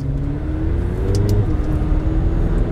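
A 2018 McLaren 720S supercar accelerating hard at full throttle, a steady loud engine roar with a rising tone that drops briefly midway as it shifts, heard from inside the car.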